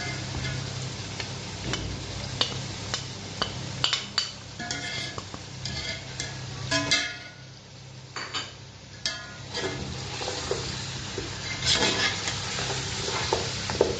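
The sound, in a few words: mutton frying with spices in a pan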